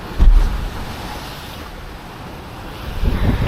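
Sea waves wash around a sailing boat on an upwind offshore passage toward Grenada, with a steady windy rush and two louder surges near the start and end, no voices.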